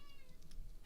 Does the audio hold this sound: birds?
no